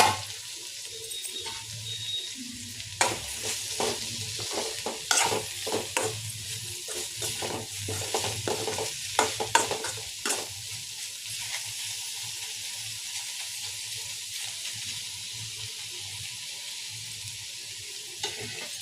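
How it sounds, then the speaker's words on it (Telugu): Bitter gourd (karela) fries in a pan with a soft, constant sizzle, broken midway by a run of scraping, clattering stirs before the frying settles back to a quiet hiss. "ఒకసారి కలుపుదామండి లేదంటే మాడిపోతుంది మధ్య మధ్యలో కలుపుతూ ఉండాలి"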